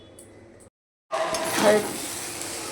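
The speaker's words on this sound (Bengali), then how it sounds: "এই যে এখানে মাছ রান্না হচ্ছে এখনো" Fish frying in a pan, a hissing sizzle that cuts in abruptly after a brief silence and swells loud for a moment before settling, close and continuous with no voices over it.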